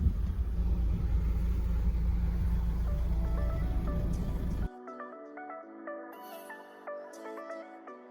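A car driving on a road at home time, with a steady loud low rumble of engine and road noise that cuts off abruptly midway, leaving quieter tonal music.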